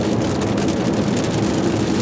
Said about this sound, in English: we ran into a nasty storm with high winds, crosswinds that is